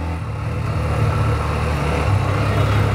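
Hero Xtreme 125R motorcycle, a new 2024 bike, accelerating with a pillion rider aboard, its engine a continuous low droning rumble with steady wind noise, close and fairly loud throughout.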